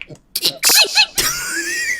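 A voice imitates a sneeze: a few sharp breathy bursts, then a drawn-out, strained nasal cry that trails off.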